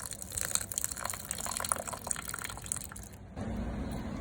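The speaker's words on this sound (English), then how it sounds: "then we'll add this hot water to our mix." Hot water mixed with dissolved baking soda pours into eggless chocolate chip oat cookie dough, a steady close liquid splashing and dribbling that runs a few seconds and then drops to a duller flow.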